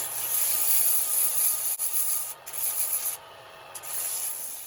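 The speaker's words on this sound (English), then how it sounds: "time to do some sanding" A segmented wooden spintop, partly Baltic birch, is sanded in a steady, hissing, close-up rub that lasts through most of the moment, with brief dips and pauses near the end.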